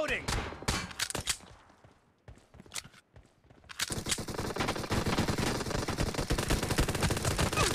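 Pistol gunfire in a multiplayer team deathmatch shooter game: sparse sharp shots at first, then a dense, continuous rattle of rapid shots over game sound effects, loud and close.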